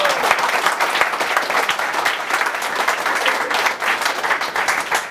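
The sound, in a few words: audience applauding and clapping together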